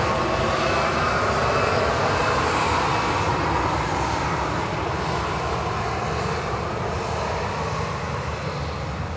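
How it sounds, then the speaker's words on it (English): A Ryanair Boeing 737-800 jet at Manchester Airport gives a loud, steady engine roar that holds broad and even throughout with a slight airy hiss, and no voices. "Ryanair 614 from Brussels, Charleroi, EIDYV 737-800"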